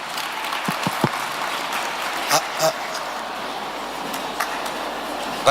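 A crowd at an entrepreneurship forum applauds the vice-president of a foundation as she is welcomed up, a moderate, steady clatter of clapping with a few sharper claps and brief voices breaking through.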